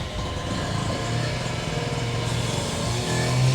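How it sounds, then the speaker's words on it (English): Someone drilling nearby in Bridgnorth, Shropshire makes a continuous droning mechanical whine with a wavering pitch that rises toward the end, fairly loud and heard without any talk. "someone drilling"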